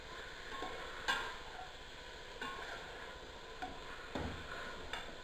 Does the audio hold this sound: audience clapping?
no